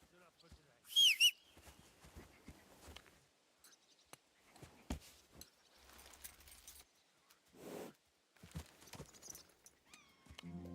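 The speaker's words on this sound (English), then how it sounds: "Are you whistling just for fun?" A sharp two-note whistle near the start calls a horse in a video game, followed by quieter game sounds, scattered clatter and talking.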